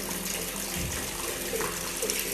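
Steady running water from a tap, a continuous close rushing splash with no voices.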